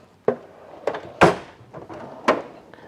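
Drawers on a diagnostic tool cart being opened and handled, four or five sharp knocks and slides spaced about a second apart, close and clear with no talking.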